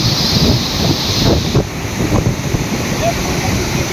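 Floodwater rushing past a house in a village after heavy rain, a steady, loud broadband roar that never lets up, with gusting wind buffeting the microphone and no voices.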